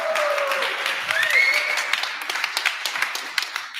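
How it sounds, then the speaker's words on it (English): A conference audience gives a round of applause after the talks, dense and sustained clapping that gradually thins into scattered claps, with a voice faintly underneath. "please, one last round of applause"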